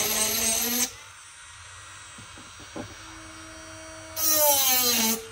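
A rotary tool blade cuts notches, whining in two short bursts at the start and end, separated by a quieter stretch of low motor hum with faint clicks, and no speech.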